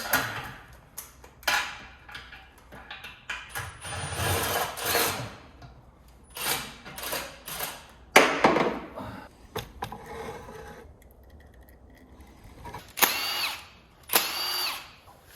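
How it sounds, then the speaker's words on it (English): Pliers scrape and clack against stuck lifters being pulled from an engine, giving a series of sharp metallic clicks and short rasping bursts with quiet gaps between them, close to the microphone. "The lifters were pretty stuck in this thing. As you can see, I'm using pliers to get them out."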